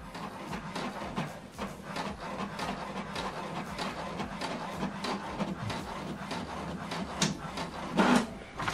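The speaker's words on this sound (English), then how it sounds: "This is to show you that this printer is working" An HP DeskJet 2820e inkjet printer runs through a page, a steady run of soft mechanical clicks, whirs and shuttling strokes, fairly quiet and close.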